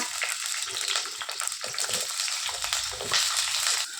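Steady crackling and hissing of drumstick (moringa) pieces frying in hot oil, filling the whole clip with bright, dense sizzle and no voices.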